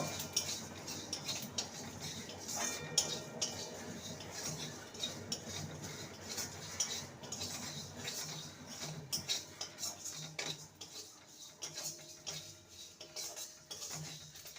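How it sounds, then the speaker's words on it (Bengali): Whole cumin and coriander seeds dry roast in a pan, stirred continuously with a utensil that scrapes and clinks against the metal in quick, uneven taps, fairly quiet and close, without speech. "ওয়ান স্পুন গোটা জিরে আর ওয়ান স্পুন গোটা ধনে শুকনো কলায় ভেজে নেব"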